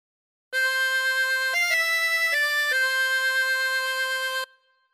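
A harmonica plays a short phrase as a lesson example: about four seconds of clear, reedy sustained notes that step between pitches, played alone and up close before cutting off cleanly.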